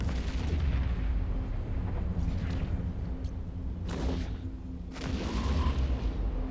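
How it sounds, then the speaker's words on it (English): Enemy fleet weapons fire in EVE Echoes booms and thuds over a dense low rumble, with a few sharper bursts and crackles rising out of the steady background, no voices heard. "They are shooting us"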